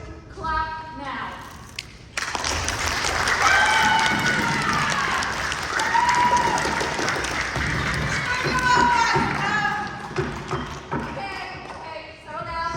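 Drama club audience claps to cast a guilty vote in a school play, starting abruptly after a short pause. The clapping is loud, dense and sustained with cheers and voices mixed in, then breaks up into scattered claps and talk.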